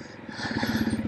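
Motorcycle engine pulsing steadily in exhaust pipe alley, a close, rhythmic low thrum with clattery mechanical texture that swells slightly in loudness, with no talk.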